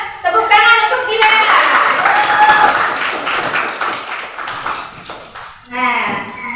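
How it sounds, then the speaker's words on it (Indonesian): Schoolchildren in a fifth-grade classroom break into loud, sustained group applause for a classmate, with a voice speaking briefly before and again as the clapping fades. "Tepuk tangan untuk Dila."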